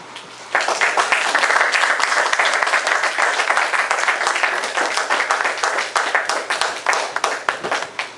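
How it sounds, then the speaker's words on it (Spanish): Audience applause at a book presentation, starting abruptly after a quiet moment and swelling into dense, close hand clapping, then thinning into scattered individual claps toward the end. "gracias por el aplauso"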